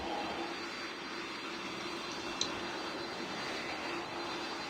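Airplane in a Roblox flight game taxiing onto the runway, a steady whooshing jet engine drone that stays even and continuous with no talking.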